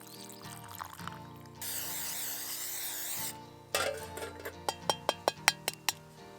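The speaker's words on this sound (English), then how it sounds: "I dug this hole to pour in my hot grease" Hot grease poured from a stainless steel plate into a hole dug in the ground outdoors gives a brief steady rushing hiss of about a second and a half, then a series of sharp light taps.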